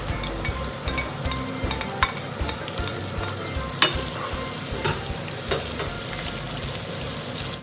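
Garlic and onion sizzle steadily in a hot pan, a loud continuous frying hiss with occasional stirring scrapes and clinks close by.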